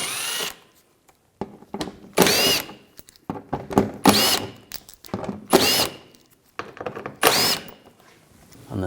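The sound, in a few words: power tool removing shield bolts with 8mm socket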